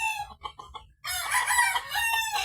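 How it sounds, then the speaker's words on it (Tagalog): Chickens make a few short clucks, then break into loud, harsh squawking and crowing-like cries close by, the agitated outburst of birds fighting. "The chickens are fighting."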